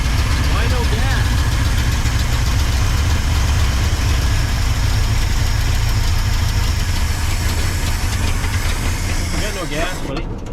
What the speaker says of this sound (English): Well, it idles now.